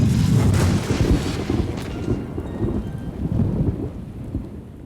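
Heavy rain pours down during a roadside thunderstorm, with loud rumbling thunder rolling through at the start and continuing to grumble beneath the steady downpour.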